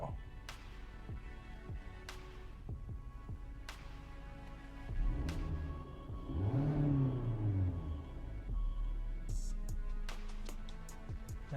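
Engine of a 2020 Hyundai Santa Fe heard from inside the cabin: a soft steady hum, then a swelling rev rises and falls around the middle, muffled and moderate, with scattered clicks and light interior noises.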